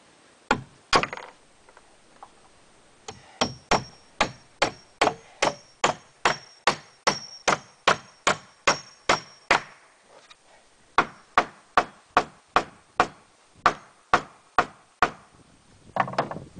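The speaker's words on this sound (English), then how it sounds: "I hammer at an angle because if I don't," Sharp hammer blows strike nails into wooden pallet boards in steady, rapid series, each hit crisp and close and driven at an angle, with a brief pause between bursts.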